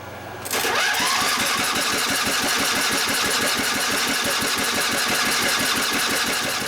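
A 23 hp Briggs & Stratton V-twin engine cranks and catches into a rapid, steady chugging rumble after a brief lower hum, loud and close, running without pause.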